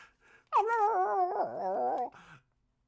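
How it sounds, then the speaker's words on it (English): A dog lets out a drawn-out, wavering howl lasting over a second, close and fairly loud, with a short yip before and after. "There's some howling dogs."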